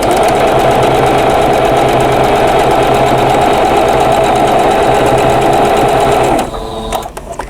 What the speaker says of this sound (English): Swing it around and sew on the other side.